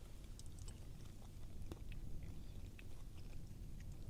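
Someone chews a cooked cherry salmon dish, with steady soft close-up mouth sounds and faint crunches against a low background rumble.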